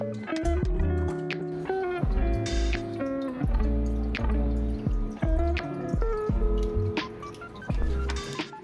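Water dripping from thick, wet sheets of washi paper pulp as they are pressed, with a series of close, distinct plinking drops in an irregular rhythm, quiet and without talk.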